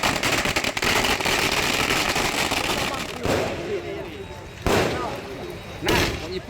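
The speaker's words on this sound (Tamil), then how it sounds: "பட்டாசு வெடித்து கொண்டாட்டம்." Firecrackers burst at a political celebration in Tamil Nadu, a dense crackling run, followed by several separate sharp bangs spaced a second or so apart.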